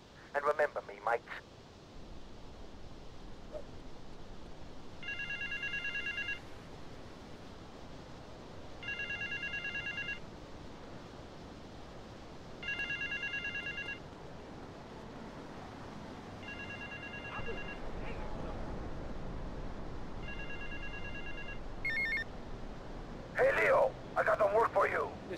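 A telephone rings in the game GTA Vice City, five even bursts of electronic trilling spaced a few seconds apart over steady background ambience, followed by a couple of brief clicks near the end.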